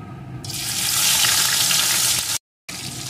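Chopped onion hits hot oil with whole cumin and whole garam masala, bursting into a loud, steady close-up sizzle that swells, cuts out briefly, then resumes, with no voices.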